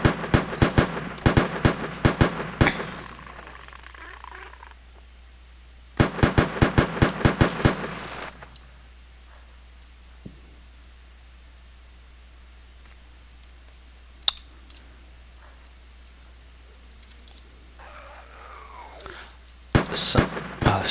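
Heavy gunfire from a video game: two loud bursts of rapid shots, one at the start and one around six seconds in, then a long quiet stretch with a single sharp crack and a final short burst at the end.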